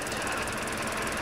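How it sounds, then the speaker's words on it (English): A 2015 Mazda 6 gasoline direct-injection engine runs with injector cleaner nearly used up, giving a loud, close, rough rapid knocking chug with uneven pulses and no voices. "you will start hearing the engine start sputtering."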